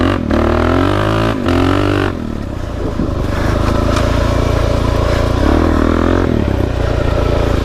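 Suzuki DR-Z dirt bike engine running close by on a trail ride, idling unevenly with the choke open, then several short revs and a steadier loud drone.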